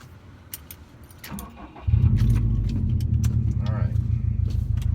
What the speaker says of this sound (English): So I'll start up my car and we'll take it for a spin.